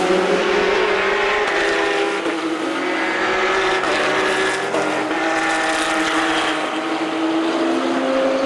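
Around twenty race cars lap the Ledenon circuit during a weekend race, engines droning loudly and continuously with rising and falling pitch as cars pass, no talk.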